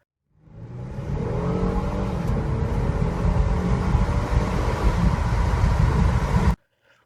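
A boosted all-wheel-drive Ford Flex engine roars steadily as it accelerates hard from zero to sixty for several seconds, loud and close, then cuts off abruptly.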